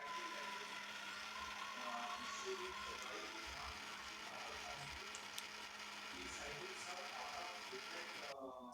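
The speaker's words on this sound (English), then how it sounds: "I want much more creamy peanut butter, so that I started grinding for 1 more minute." An electric grinder churns peanuts into creamy peanut butter, giving a steady low motor whir with rattling, grinding texture, moderately faint and continuous throughout.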